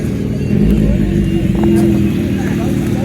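Two-stroke motorcycles rumble and rev nearby as they arrive at a two-stroke bike meet, a loud continuous engine drone with people talking over it.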